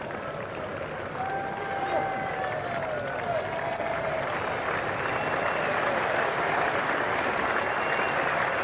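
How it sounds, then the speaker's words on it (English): Steady applause from a cricket crowd at a 1986 England versus New Zealand Test match, broad and continuous throughout, with faint whistles or calls rising over the clapping. "That's the applause"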